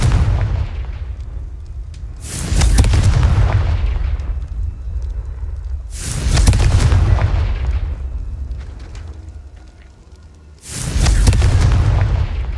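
Three heavy, booming Confringo blasting-spell explosions in a Harry Potter video game, each a sudden loud impact with a long rumbling decay, spaced a few seconds apart.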